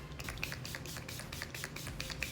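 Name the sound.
setting spray sprayed on face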